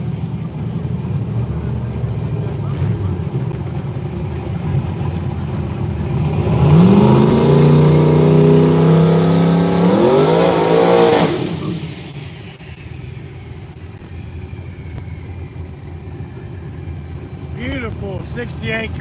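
Turbocharged LS-powered Camaros launch at a no-prep drag strip, one engine idling then revving hard into a loud rising roar that swells and cuts off, followed by quieter crowd ambience and voices.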